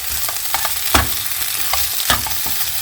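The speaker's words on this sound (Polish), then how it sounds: "I podsmażam około 7-8 minut." Plums cooking in a pan with sugar and vanilla sugar, a continuous close sizzle with spoon scrapes and thumps recurring every second or so, no voices.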